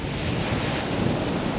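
Wind and surf roar steadily at the shore during a sea fishing competition in Wales, loud and unbroken with buffeting wind noise on the microphone.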